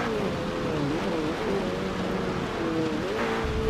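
Engine of a 2018 McLaren 720S in Forza Motorsport 7 at the race start, a loud, steady droning engine note that wavers slightly in pitch under constant throttle, with no talk.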